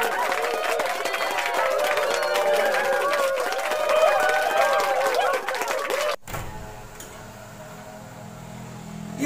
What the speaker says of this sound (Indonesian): Tepuk tangan dulu buat masyarakat super.